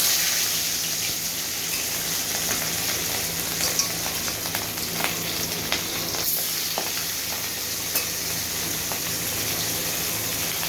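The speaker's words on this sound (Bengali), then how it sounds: "এইভাবে আমি সবগুলো মাছকেই ভেজে নিব।" Pieces of hilsa fish fry in hot oil in a pan, a steady, dense crackling sizzle with small pops throughout, close and continuous with no talking.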